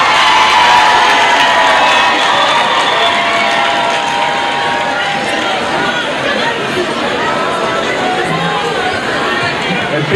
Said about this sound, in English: A big round of applause for South Africa.